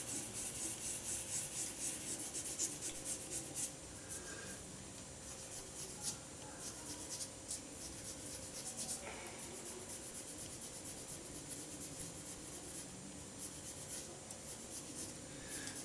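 Hand sanding a wooden shaving brush handle with sandpaper: a faint, continuous scratchy rubbing with quick back-and-forth strokes, close and alone.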